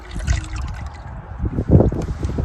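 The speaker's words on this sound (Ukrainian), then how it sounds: "Набираю у відро і зараз буду розливати по бутилках" Homemade liquid ladled from a bucket and poured into plastic bottles through a strainer and funnel, with close splashing, trickling and gurgling bursts that grow louder toward the end.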